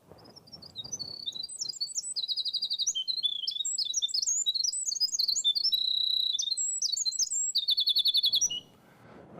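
A recorded Eastern-variant bird song of quick, high chirps and trilled phrases that repeats across most of the clip, crisp and fairly close over quiet background.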